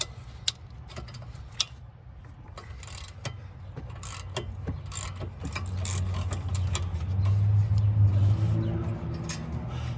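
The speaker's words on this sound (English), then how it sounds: "I'm going to get my socket on here with 14mm and just try and break them loose." A 14mm socket wrench ratchets and clicks while breaking loose the brake caliper bolts on a Kia Forte during a brake replacement, with sharp metallic ticks and a low mechanical hum building toward the end.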